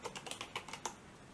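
Quick, light keystrokes on a computer keyboard in Windows 11, a short irregular burst of close clicks that trails off into quiet.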